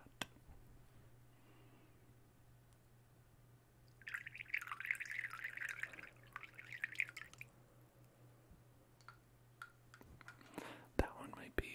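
Water droplets dripping in a quiet ASMR setting, small faint wet taps scattered through a soft hiss, with a brief louder watery burst in the middle and a few sharper drips near the end.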